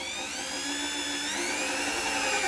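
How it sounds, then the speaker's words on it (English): An electric drill bores pilot holes, giving a steady, close, whining hum whose pitch creeps slightly upward as it runs, continuous and alone with no talking. "pilot holes drilled. Let me just go and swap this little bit for another drill bit."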